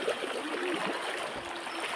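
Clear mountain river flowing in a steady, close rush of bubbling and splashing water, continuous and fairly loud throughout, with no voices.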